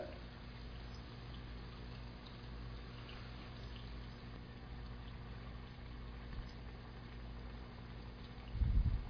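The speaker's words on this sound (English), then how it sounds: "You have to fry them in a medium heat so that when they come out, they turn out crispy." Golgappa puris frying in hot oil in a large pan over medium heat give a steady, even bubbling hiss throughout, with a brief louder clatter near the end.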